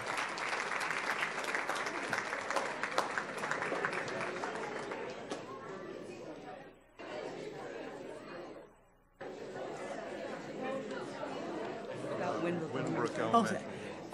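Applause from a school gathering honoring several elementary schools, a steady crowd clapping with chatter mixed in, briefly dipping twice before swelling again.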